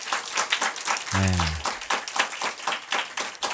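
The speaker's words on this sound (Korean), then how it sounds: "우리 박수 좀 한번 합시다." A church congregation applauds, with steady dense clapping throughout and a brief spoken word from a man partway through.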